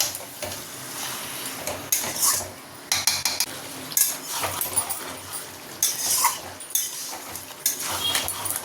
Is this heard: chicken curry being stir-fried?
yes